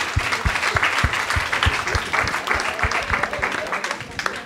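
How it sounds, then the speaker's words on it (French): Audience applause at a nursing school brunch event in Saint-Denis: dense, steady clapping from a room full of people, close and full throughout, with a chatter of voices mixed into the crowd noise. "on applaudit"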